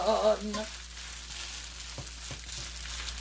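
A spaghetti pie fries in a pan after being flipped, giving a steady close crackling sizzle with a few light scrapes, after a brief voice at the start.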